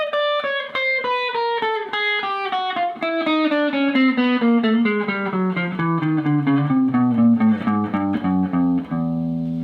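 An electric guitar, apparently with distortion, plays a chromatic scale moving across the strings, a long run of evenly spaced single notes falling steadily in pitch, played alone and up close.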